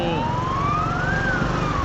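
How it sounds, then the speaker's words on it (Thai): A rescue vehicle's wailing siren sweeps slowly up and down in pitch, loud and steady, over traffic rumble in Vientiane, Laos, with no talking. "โอ้รถกู้ภัยมาแล้วนะ"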